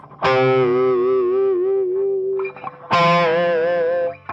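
Distorted electric guitar with effects plays two sustained chord phrases of a riff, each ringing about two seconds, separated by a short pause, loud and alone without talk.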